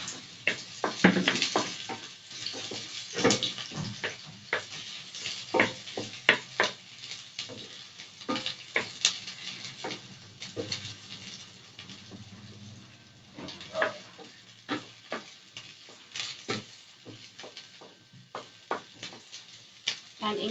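Onion fries and is stirred in a pan for a chicken and mixed vegetable stir fry, heard as a steady sizzle broken by frequent clacks of a utensil against the pan, with a voice speaking at times.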